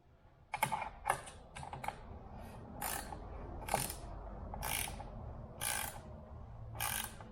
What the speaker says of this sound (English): Come back in with my wrench.